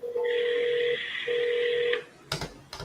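A telephone dials again after voicemail, with steady touch tones held in two long stretches, then a short burst of clicks and rustle at the end.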